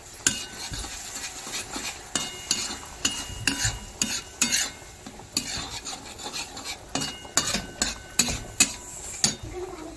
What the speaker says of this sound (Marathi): आले लसूण पेस्ट टाकल्यानंतर हलवून घ्यायचं आहे